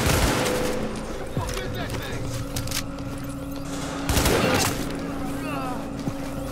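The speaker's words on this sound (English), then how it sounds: "but you're shooting at me." Gunfire from the video game Tom Clancy's The Division, with sharp bursts of shots and booms scattered across the clip over a steady background hum, one louder cluster near the middle.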